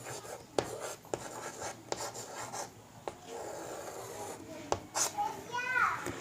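Pen scratching across a paper family-tree application form in irregular short strokes, with soft rubbing and a few sharp taps, fairly close and quiet, with faint background noise and no clear talk.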